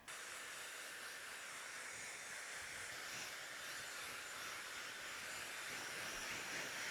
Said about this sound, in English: I've been standing with my Dyson and trying to dry it as much as I could.